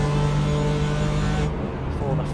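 BMW M4 race cars at full throttle at Motegi, heading toward 130R, give a loud, steady, sustained engine drone with a strong low hum, with a commentator talking over it throughout.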